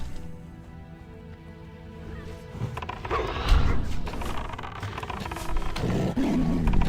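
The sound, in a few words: hunter's pet tiger roaring in Turtle WoW video game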